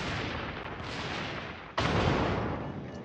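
Naval guns fire in World of Warships during a Clan Battle, a dense roaring barrage with a sharp new salvo crashing in about halfway through, loud and sustained with no talk.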